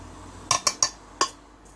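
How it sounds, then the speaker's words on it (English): A spoon clinks against a bowl while stirring dry fruit-cake ingredients: four sharp, close taps in quick succession, then a faint fifth, with no talk. "And I will just mix it with a spoon like this"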